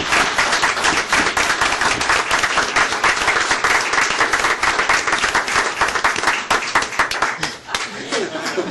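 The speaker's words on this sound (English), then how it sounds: "Let's give all of these people a round of applause." A room full of people at a county commission meeting breaks into a sustained round of applause, dense steady clapping filling the whole stretch with a few chuckles mixed in and some voices underneath.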